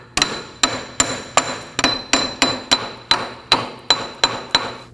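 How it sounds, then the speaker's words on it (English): A hammer taps the steering knuckle flange of a Nissan Murano in a steady run of about a dozen sharp, ringing metal strikes, evenly spaced, close and loud. "we're gonna use our hammer and we're gonna tap on the flange here, working our way around to try and work this out of the knuckle"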